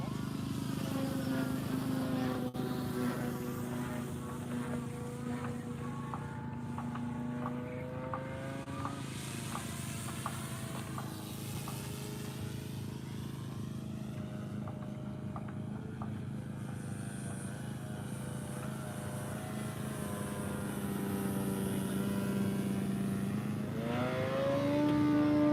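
An RC Extra NG aerobatic plane's engine running with unwanted vibration, a steady buzzing drone with wavering pitch heard from some distance for the whole stretch, swelling slightly louder near the end, with no talking.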